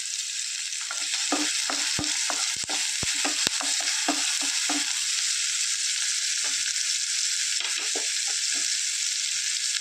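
Onion, green chili and garlic frying in a pan with curry leaves for a bitter gourd roast, a steady loud sizzle broken by repeated scraping and clacking stirring strokes, no talk.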